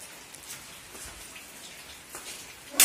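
Rain falling outdoors in a village, a soft steady hiss of drops on surfaces with a few faint patters, fairly quiet and continuous, ending in a brief louder noise.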